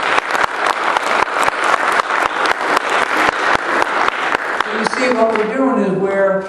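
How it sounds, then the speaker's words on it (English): Congregation at a Passover teaching service claps together in a loud, steady burst of dense applause lasting several seconds, with voices and a rising sung or spoken tone emerging near the end. "give the Lord a great big clap."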